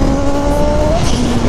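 Turbocharged Yamaha XJ6 motorcycle running hard, its steady engine drone carrying a rising whine, with a brief hissing burst of turbo blow-off near the end; loud and close, no talk.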